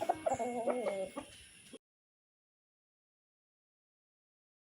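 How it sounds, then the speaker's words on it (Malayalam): A few chickens cluck close by for under two seconds, a quick burst of short calls, then the sound cuts to silence. "അപ്പോൾ ഇതാണ് എൻ്റെ കയ്യിലുള്ള കോഴികള്"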